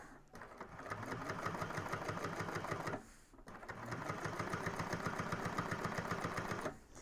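A sewing machine stitches across a bag lining with a back stitch, a steady rapid clatter in two runs separated by a brief pause, close and clear with no voices.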